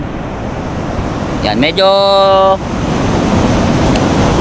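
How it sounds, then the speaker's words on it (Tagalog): Strong sea current and surf churn as a loud, steady wash of water and wind noise during a spearfishing outing, and someone speaks briefly over the roar. "Ang lakas mga kaunat ng current ng tubig, malakas ang agos"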